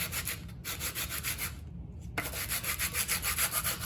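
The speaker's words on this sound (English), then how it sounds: "Just sand with the grain." Wood is hand sanded along the grain with 150 grit sandpaper, close rhythmic back-and-forth rasping strokes with a short pause before the scrubbing resumes steadily.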